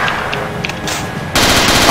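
Machine gun fire from the shooter game Castle Totenkopf, a loud close burst that swells into a dense, continuous rattle of rapid shots near the end, with no voices.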